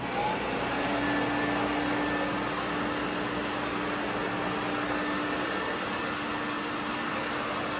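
A Compact Electra vacuum cleaner runs steadily on a hard floor without a carpet head, giving a loud, constant motor whine and airflow roar that holds unbroken from start to finish.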